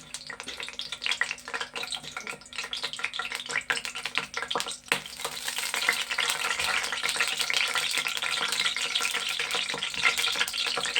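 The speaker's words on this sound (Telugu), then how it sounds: "నూనె అయితే కాగుతుందండి. ఉల్లిపాయలు వేస్తున్నాండి." Hot oil crackles, then a louder, steady sizzle takes over as onions are dropped into the pan and keep frying.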